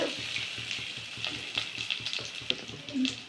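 Onions fry in a pan of oil with curry leaves and ground cumin, pepper and garlic for a village-style crab soup, a moderate, close crackling sizzle with small pops and stirring scrapes scattered throughout.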